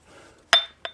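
Two bright glass clinks about a third of a second apart, the first louder with a short ringing tail and the second softer, set close against a quiet room.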